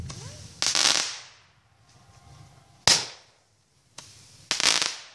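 Fourth of July firework shells burst in sharp, loud cracks followed by crackling decays. Four or five separate explosions come at irregular intervals, with quieter gaps between them.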